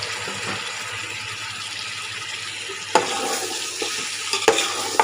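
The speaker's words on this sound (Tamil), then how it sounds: "இப்போ இதில் கால் கிலோ தக்காளி அஞ்சு நாலுலேருந்து அஞ்சு பச்சை மிளகா கட் பண்ணி வச்சுருக்கேன் இது போட்டுக்கோங்க" Tomatoes and green chillies for chicken biryani sizzle in a pan with a constant hiss, then a few scattered spoon knocks and scrapes arrive in the second half.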